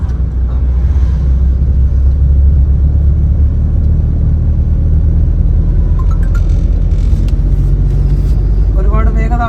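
A car engine accelerating after a gear change, heard as a loud, close, low rumble that holds steady inside the cabin, with some faint higher sounds near the end.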